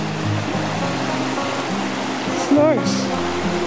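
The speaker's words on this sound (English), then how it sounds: "And we have running water going up and down on both sides." Running water from streams on both sides of a trail just past a bridge near Sundance Canyon in Banff makes a steady, close rushing wash throughout, while a voice speaks briefly over it.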